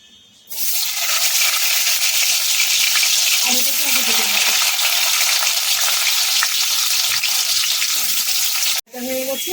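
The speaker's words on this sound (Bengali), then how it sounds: "কড়াইতে তেল বসিয়ে দিয়েছি ভাজাগুলো ভাজার জন্য" Potatoes hit hot oil in a wok and burst into loud, steady sizzling that continues with occasional stirring; a brief voice is heard at the end.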